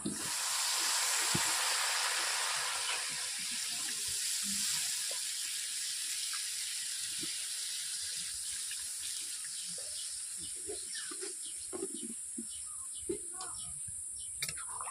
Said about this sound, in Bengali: ওতে আমি জল দিয়ে দিচ্ছি।